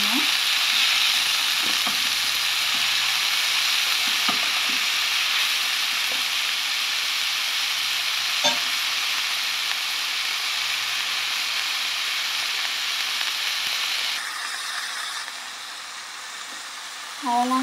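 Drumstick leaves are stir-fried in a hot pan, a steady bright sizzle with scattered clicks and scrapes of stirring, close and continuous, easing slightly near the end as a voice begins talking.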